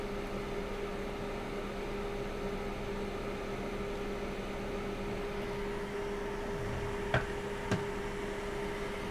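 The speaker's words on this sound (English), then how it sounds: "The noise you can hear is the noise of the fume extractor." A fume extractor on an electronics repair bench, used while repairing a beer-damaged MacBook, gives off a quiet, steady whirring hum with a couple of faint ticks near the end.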